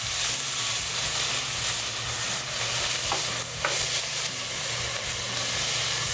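Bacon rendering in a pan, a loud, dense, continuous sizzle and hiss close up, with a couple of faint clicks and no talking.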